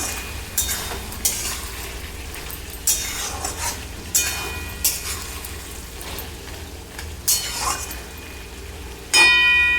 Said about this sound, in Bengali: তো আমি এখন এতে দিয়ে দিচ্ছি কেটে রাখা বেগুন